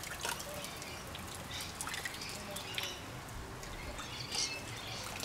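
Light rain sprinkles outdoors where a husky and a malamute are kept, making soft scattered drips and trickles at low volume, with faint bird calls in the distance.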